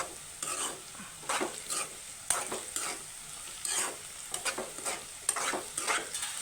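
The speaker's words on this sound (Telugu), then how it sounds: "ఇవి కూడా కొంచెం బ్రౌన్ కలర్ వచ్చే వరకు ఫ్రై అవుతుండాలి." Potato pieces frying in a pan and being stirred, with a soft steady sizzle under repeated scraping strokes of a spatula that come in uneven bursts, close and fairly quiet, with no talk.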